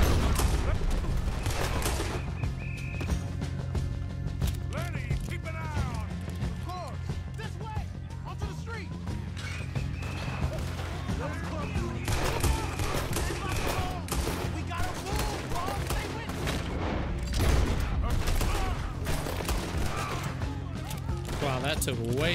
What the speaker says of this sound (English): Way too many shots for that guy.